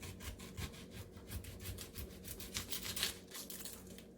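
A knife saws through fresh market food, likely a tomato, in repeated quick back-and-forth strokes, close and fairly quiet with a rough, rasping texture.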